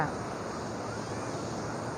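Steady wash of surf and sea wind at Patong Beach, Phuket, a continuous broadband rush with wind buffeting the microphone, no distinct voices.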